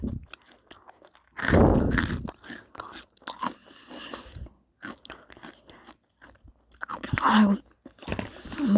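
Loud, close crunching as crispy freeze-dried strawberries are bitten and chewed, coming in several bursts separated by quiet pauses.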